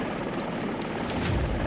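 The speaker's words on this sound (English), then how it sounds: "with the tide quite high, there's nowhere for the helicopter to land." A helicopter's steady rotor roar, close and continuous, with no voices, as it hovers over a small tropical island at high tide.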